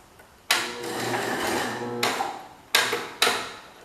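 A 1969 Cub Cadet 105 tractor engine cranks on a 12-volt supply in four separate bursts, the starter whirring and chugging steadily nearby, with short pauses between attempts.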